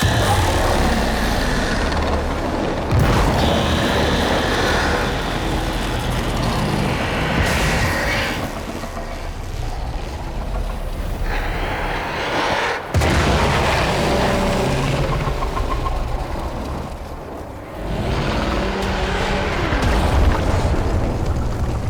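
A sequence of heavy explosions in the Warframe game, deep booming blasts and rumbling impacts with debris, loud and repeated across the stretch.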